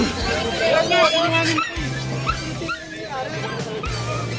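A Pomeranian dog at a busy pet market whimpers and gives repeated high yips close by, with people talking and general crowd babble underneath.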